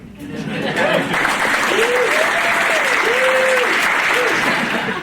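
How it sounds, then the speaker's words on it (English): Sustained, dense applause from an audience at a 2019 Santa Cruz employer recognition event, loud and steady for the whole stretch, with a few whistle-like whoops rising above the clapping. "Give it a round of applause, Ryan."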